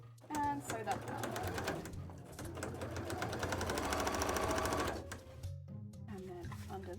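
A sewing machine stitches a folded-over seam on a cosplay headpiece, running in a steady, close, continuous burst for about four and a half seconds and then stopping, with a brief pause before and after.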